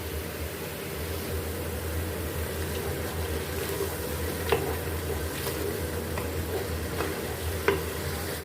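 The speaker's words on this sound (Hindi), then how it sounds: "3 से 4 मिनट इसको अच्छे से हमने फ्राई कर लेना है।" Garlic and ginger frying in oil, a steady low sizzle with occasional soft stirring clicks, even and unbroken throughout with no talk.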